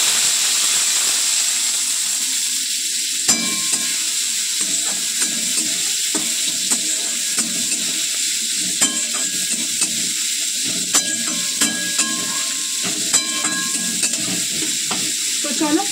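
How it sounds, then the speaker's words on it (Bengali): Chopped onion with whole cumin seeds sizzles in a little oil in a pan, a steady frying hiss throughout, broken by regular scraping taps of a spatula stirring. "তো চলো পেঁয়াজটা ভাজা হোক"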